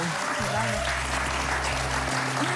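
Studio audience on a television game show breaks into sustained applause, a steady wash of clapping that fills the short stretch from start to finish.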